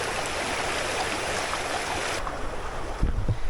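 River water flows along the Ribbon Creek Trail as a steady, broadband rushing, close and loud, with a few low knocks and handling bumps near the end.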